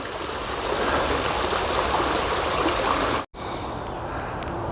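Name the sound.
small stream water feature on Appalachian Trail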